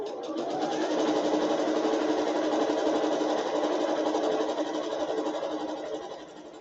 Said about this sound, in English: And I'm going to sew this.